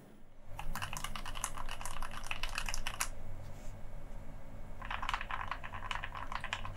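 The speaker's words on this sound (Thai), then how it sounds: "เดี๋ยวเราจะลองพิมพ์เฉพาะสองแถวนี้ดูนะครับกดน้ำหนักคล้ายๆเดิมแล้วเดี๋ยวลองอัดเสียงเก็บดู" Rapid typing on a mechanical keyboard with two rows of lubed switches, a dense burst of key clacks for about three seconds, a pause, then another flurry, close and fairly loud over a steady low hum.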